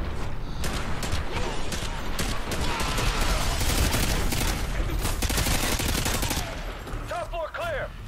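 Rapid bursts of gunfire in Call of Duty: Modern Warfare 2 crackle nonstop for several seconds, dense and loud, with a brief electronic chirping near the end.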